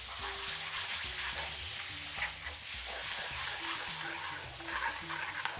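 Red tomato paste fries and sizzles in a pan for a masala fish curry, a soft steady crackle with scraping stirs and faint background hum, no voices.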